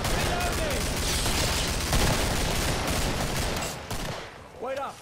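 Pistol gunfire in the co-op shooter game Killing Floor, a dense run of rapid shots and impacts sustained throughout, loud and close, fading near the end.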